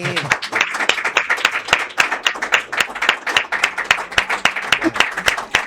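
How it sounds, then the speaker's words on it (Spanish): Audience applause at a Chilean talk event on politics and economics, a dense burst of many hands clapping steadily and fairly loud throughout, with no voices over it. "Un fuerte aplauso para Juan Sutilo, ¿no?"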